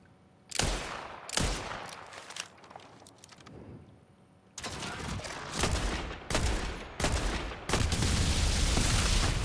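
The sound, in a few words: gunfire shooting a bomb in video game Borderlands 4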